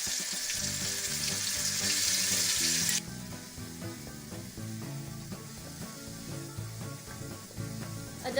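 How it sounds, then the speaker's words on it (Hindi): Ginger garlic paste frying in oil with browned onions for mutton pulao, a loud steady hiss and sizzle that drops abruptly partway through, then continues more softly with stirring and clinks, close up. "अब हम इसमें अदरक लहसुन का पेस्ट डालेंगे"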